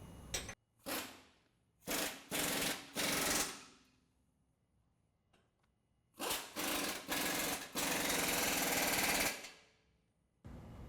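An impact wrench tightens cross member bolts on a 2015 Ford F-150 during a suspension lift install, firing in loud rattling bursts of about a second or two each, separated by quiet pauses.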